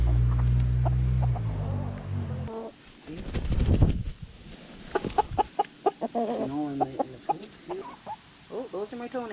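Chickens, including speckled hens, cluck and murmur close by in a pen, with a person talking to them at intervals between the short bursts of fowl calls.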